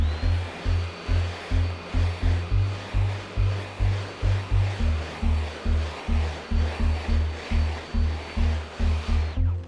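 A STIHL BGA 300 battery backpack leaf blower runs steadily close by, its airflow swelling and dipping in a regular pulsing rhythm for about ten seconds with no talking.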